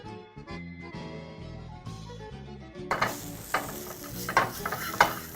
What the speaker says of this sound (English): fry up your onions with that beautiful tomato paste